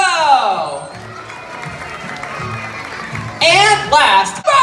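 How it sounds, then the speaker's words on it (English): Audience applause and cheering at a dolphin show, a burst of clapping and whoops near the end following a loudspeaker announcer's voice. "Get that applause going for"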